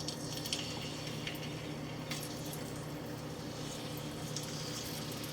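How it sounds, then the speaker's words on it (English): Potatoes frying in hot oil preheated over medium-high heat, a steady close sizzle and crackle with faint bubbling that holds at an even level throughout, no voices. "My oil is preheating over medium-high heat, and the first thing I'm going to do is fry the potatoes."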